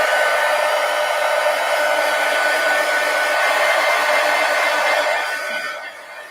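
A hair dryer blows a steady, loud, hissing roar while drying a mixed media napkin journal, holding constant for several seconds before fading down at the end.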